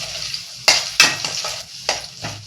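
Chana dal fries in a pan with a light sizzle, broken by several sharp stirring scrapes and clinks of a spatula, close and without voices.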